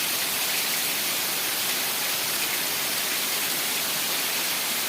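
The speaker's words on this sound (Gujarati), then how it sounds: "જોરદાર વરસાદ" Steady, dense heavy night rain hisses continuously over a farm with no breaks, a broad wash of noise like a heavy downpour close by.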